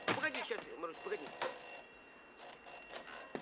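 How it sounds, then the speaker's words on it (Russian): A telephone rings in a home with a trilling, bell-like tone in repeated bursts, following a brief voice at the start; the ring is moderately loud and close. "Инна, вас к телефону, Прага!"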